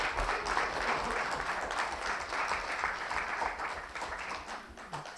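Audience applause at the Leaders in Innovation Fellowships final pitches in Malaysia, a sustained steady clapping from a room of people lasting several seconds before tapering slightly, with no talking.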